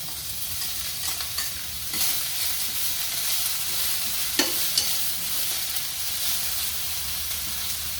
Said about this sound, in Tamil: ஃபர்ஸ்ட் வந்து கேபேஜ் ஆட் பண்ணி நல்லா மிக்ஸ் பண்ணுறோம்